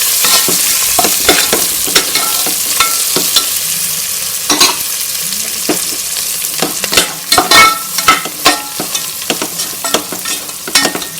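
Mint, coriander and curry leaves sautéing in hot oil for tomato rice, with a steady close sizzle and repeated sharp scrapes and clacks of a ladle stirring in the pan.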